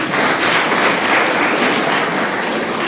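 An audience at a regional governor's state of the region address claps steadily, a dense even patter of many hands held at the same loudness, with no voices.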